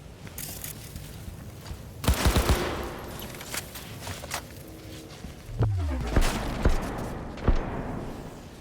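Assault rifle fire in Cyberpunk 2077, short bursts of rapid shots crackling at close range with a few heavy impacts and clattering mechanical noises in between, no talk.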